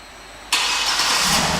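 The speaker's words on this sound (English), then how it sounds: "and the car starts right up." A 2008 Cadillac Escalade ESV AWD engine starting by remote start after a brief quiet moment, the motor catching instantly and settling into a steady idle hum.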